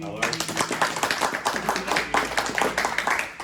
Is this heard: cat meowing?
no